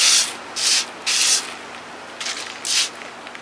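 A handheld spray bottle misting a newly bought plant, five or six short hissing sprays in quick bursts, loud and close, with a steady low fan hum behind.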